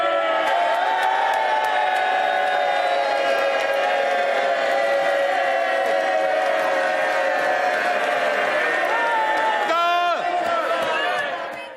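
Loud, sustained crowd noise fills the House of Commons as Labour MPs welcome Christian Wakeford onto their benches, a dense wash of cheering and clapping that holds steady throughout before thinning briefly near the end.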